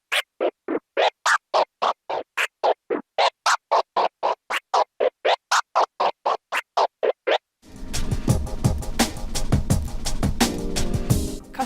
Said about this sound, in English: I'll teach you how to do the transformer or transform scratch